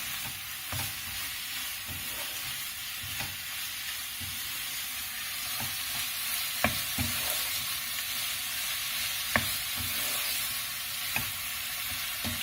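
Paneer sizzles steadily as it fries in a pan, a broad continuous crackle with scattered sharper pops and the scrape of stirring at intervals, moderately loud with no talking.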